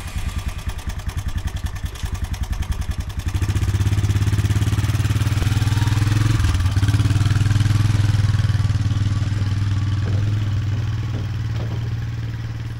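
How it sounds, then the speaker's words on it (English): An ATV quad rides down a woodland trail, its engine puttering and clattering at first, then rising into a steady, loud, droning hum as it rolls along, with a slight fade near the end. "Got the quad loaded up and ready to go. So let's go cruise down the trail, find ourselves some trees"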